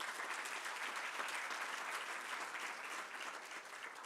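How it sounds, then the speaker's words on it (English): Audience at the Africa Construction Law Conference applauding a panel, sustained even clapping from many hands, faint and distant throughout. "Ladies and gentlemen, please appreciate them with another round of applause."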